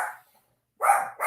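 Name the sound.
dogs barking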